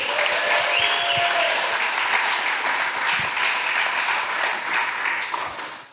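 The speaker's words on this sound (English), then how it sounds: "Let me give a round of applause, please." Audience applause at a Crypto Monday meetup in San Juan, a dense steady wash of many hands clapping for about six seconds, loud and close, fading slightly at the end with a few faint whoops over it.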